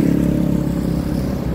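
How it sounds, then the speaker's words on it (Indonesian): A Bintang Timur bus bound for Toraja rolls into Makassar, its engine giving a loud, close, steady low rumble with a slight rattle and no voices. "Ini juga ada bus yang baru tiba di Makassar,"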